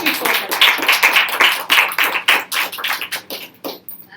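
Close, loud hand clapping from an audience at a Rotary Club speech, a steady run of individual claps that thins out and stops near the end.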